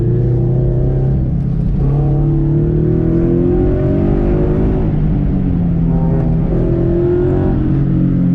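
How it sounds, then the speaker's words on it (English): A Scion FR-S sports car at an autocross in cold weather accelerates hard with wheel spin, its engine droning loud and near in steady rising and falling revs with no voices over it. "Getting a lot of wheel spin because it's really cold outside."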